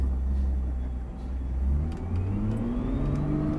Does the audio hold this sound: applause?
no